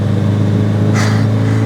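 Tall off-road camper van accelerating hard in third gear toward about 60 km/h, a loud steady low engine drone heard from inside the cabin, with a brief higher rush partway through.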